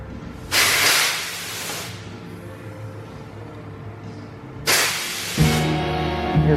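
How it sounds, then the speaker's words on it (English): Compressed air from an air compressor hisses into Stanceparts air cups for car suspension, coming in two loud bursts with a quieter steady hiss between them. "see if we can get them to activate just using an air compressor to start with as a test"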